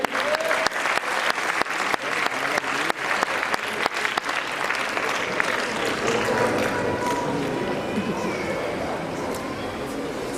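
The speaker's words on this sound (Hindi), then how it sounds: "इनके लिए भरपूर तालियां बजाइए।" Audience applause for performer Raheela Malik at a live stage show, loud and dense at first with sharp claps, then settling into a steady, slightly softer wash of clapping with murmured voices underneath.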